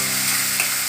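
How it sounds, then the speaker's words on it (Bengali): Onion paste fries with spices in a pan, a bright, continuous, close sizzle with faint stirring scrapes over one brief moment. "পেঁয়াজটা খানিকক্ষণ একটু ভাজা হয়ে যাবে"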